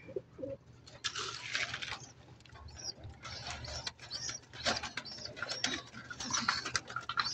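A flock of pigeons around a loft at midday, soft cooing and fluttering mixed with clicking, rattling mechanical noises, steady and fairly close with no talk.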